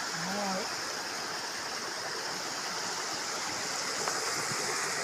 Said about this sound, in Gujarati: હજી તો પાણી તો કેટલું હાલ્યું જાય